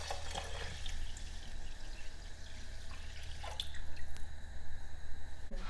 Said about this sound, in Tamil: 10 கப்பு தண்ணி ஊற்றிக்கலாம்